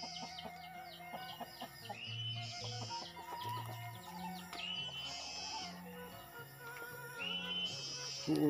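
Chickens cluck and squawk close by at a chicken coop in a Tasikmalaya village, overlapping calls and occasional crowing over a constant background din.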